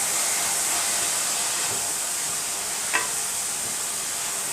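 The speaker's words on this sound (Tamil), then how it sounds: "சேர்த்துட்டு நல்லா வதக்கிடலாம்." Banana flower with turmeric and salt is sautéed in a pan, with a steady faint sizzling hiss and a single sharp scrape of a spoon partway through. No one talks.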